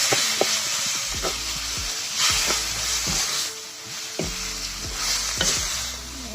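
Tomatoes frying with turmeric in a pan, a steady sizzle broken by repeated scrapes and clacks of a spoon stirring, close up and without talk.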